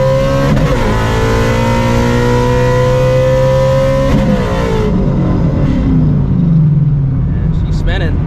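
A 900 horsepower Shelby GT350 roars hard under acceleration with its wheels spinning, the loud engine note climbing and shifting before it drops into a lower, rougher rumble.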